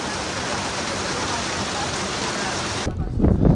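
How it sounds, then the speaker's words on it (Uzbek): Steady broadband hiss of sudden rain pouring down in Sochi, loud and continuous, cutting off abruptly near the end as a muffled rumble takes over. "Yana mana birdan yomg'ir."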